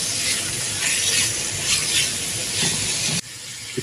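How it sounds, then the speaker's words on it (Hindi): Chicken frying with ginger garlic paste in a pot, a loud continuous hiss and sizzle of hot oil that cuts off abruptly near the end. "अदरक लहसुन के पेस्ट के साथ अच्छी तरह से भून लेंगे।"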